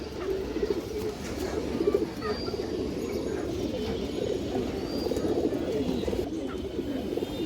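Pigeons coo in soft repeated throaty calls close by, overlapping in an uneven rhythm while someone talks over them.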